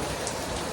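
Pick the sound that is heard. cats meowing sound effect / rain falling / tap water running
rain falling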